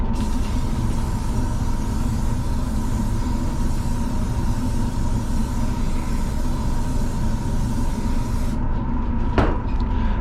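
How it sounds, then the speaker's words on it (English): A continuous loud hiss of an aerosol spray can, used for aquatint in intaglio printmaking, runs for about nine seconds over a low rumble, then cuts off with a short burst. "Now that might have seemed like a long spray"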